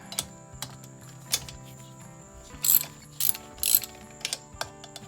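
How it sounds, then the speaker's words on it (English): A torque wrench with a T25 bit ratchets on a Craftsman 38cc engine during a piston and cylinder replacement. Close, sharp clicking bursts come in quick groups between quieter handling sounds. "You need one of these torque wrenches here."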